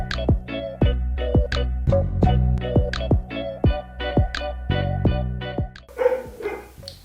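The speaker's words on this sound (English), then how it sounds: "Patiently waiting for the dogs to have their conversation." Several dogs bark in a steady run of sharp, loud barks close by, about a dozen in quick succession, ending with a brief rustle.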